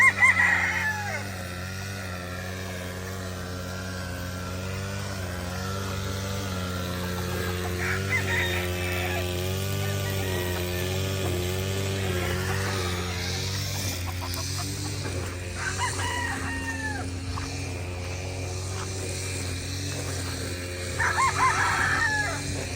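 A backyard flock of chickens after heavy rains, some of the birds ailing, with hens clucking steadily and roosters crowing repeatedly at close to middle distance, all without talk.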